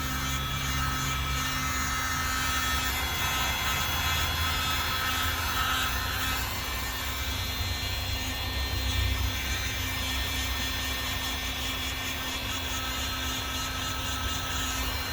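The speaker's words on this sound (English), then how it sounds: "looks like I'll have to use a hair dryer" A steady, continuous blowing whir of a hair dryer run over wood, constant in level throughout with a faint hum underneath.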